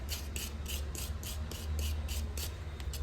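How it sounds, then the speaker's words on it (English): Steady rhythmic scrubbing on a front brake caliper bracket, a wire brush rasping back and forth in about ten even strokes, close and fairly loud against a low rumble of a workshop. "just cleaning up the brake caliper bracket"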